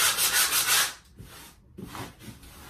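Sandpaper rubbing over drywall patched with all-purpose compound, smoothing it before paint: a loud, close, rhythmic scratchy rasp in steady strokes that eases into lighter, quieter rubbing.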